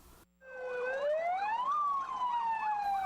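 A fire engine siren wails, rising and falling in long sweeping tones, loud and close, after a brief quiet start; no voices.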